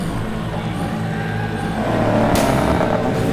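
Subaru rallycross race cars roar past in a loud, continuous engine drone with rising revs and a brief harsh burst near the end.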